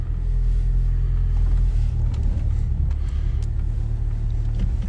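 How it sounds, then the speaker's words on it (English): A Citroen ZX waking from winter storage idles with a steady low rumble as it edges slowly forward, the engine close and continuous with faint creaks over it. "Just going to let the car roll forward a little bit."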